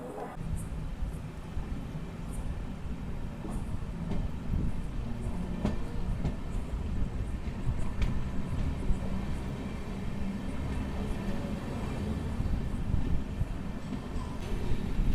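A Machilipatnam–Bidar superfast express train pulls out of Madhira station, its steady low rumble and faint rail clatter filling the scene continuously without voices.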